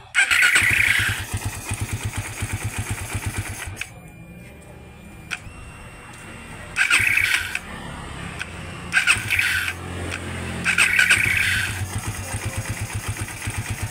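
Suzuki Raider 150 Fi fuel-injected motorcycle engine running close by, revving in repeated loud bursts between stretches of lower idling, with a whining squeal during the revs.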